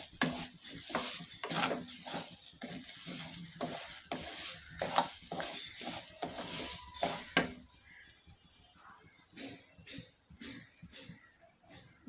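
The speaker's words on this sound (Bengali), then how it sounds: "ঘিটা দিয়ে চাউলটা ভালোভাবে নেড়ে চেড়ে নেই।" Rice is stirred with ghee in a pot for white pulao, giving rapid, repeated scraping strokes over a soft sizzle, close by. The strokes are dense at first and then thin out into sparser scrapes.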